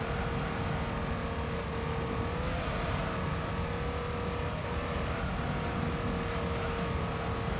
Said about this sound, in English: RX-7's coming out of the pits